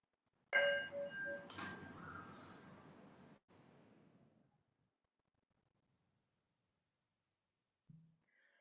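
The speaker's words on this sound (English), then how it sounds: "I will ring this bell and try to notice the moment that the bell stops ringing." A single meditation bell is struck, ringing out clear and bright before slowly fading into silence; a faint low tap follows later.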